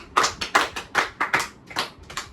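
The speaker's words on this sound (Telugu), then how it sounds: "క్లాప్స్ కొట్టాను ఉదయ్కి." Hands clapping for a student in a classroom, about a dozen sharp, close claps in a loose uneven rhythm, with no talking over them.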